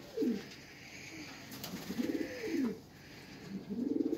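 Teddy pigeons coo in several soft, rolling calls, close by and separated by short pauses.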